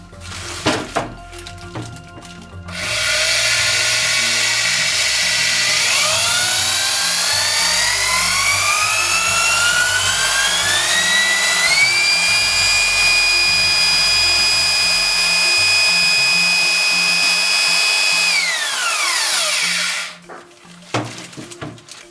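A Bosch PBH 240 RE rotary hammer drill spins up close and loud, its whine climbing steadily in pitch before holding a high steady tone for several seconds, then winding down and stopping.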